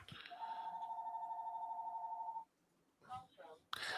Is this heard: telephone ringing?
yes